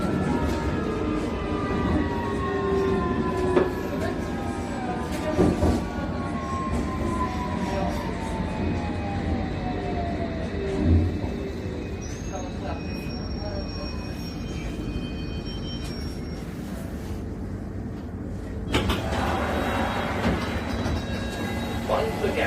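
A London Underground Hammersmith & City line train runs steadily with rumbling wheels, rail clatter and a falling whine as it moves, while an onboard announcement voice speaks over the noise.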